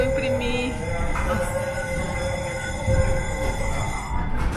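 A tram rolls along its rails with a steady rumble of wheels and track noise, punctuated by faint metallic squeals and clanks, close and continuous throughout.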